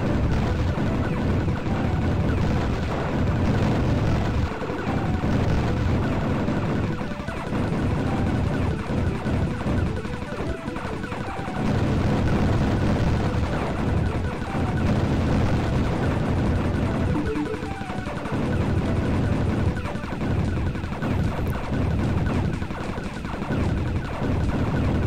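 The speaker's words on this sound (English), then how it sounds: "We have enough reactor power to be constantly firing" Constant firing of a ship's guns in the MS-DOS shoot-'em-up Tyrian, a dense, unbroken stream of rapid shots and impacts layered over game music for the whole stretch, with no talking.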